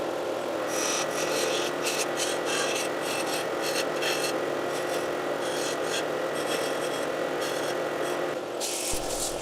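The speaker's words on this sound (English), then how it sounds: "I did use excessive sandpapers to sand this down all the way to a 400 grit finish" Sandpaper rubbing against a spinning wooden vase on a lathe, a steady close rasping hiss with repeated bursts of scraping over the continuous motor hum, no talking.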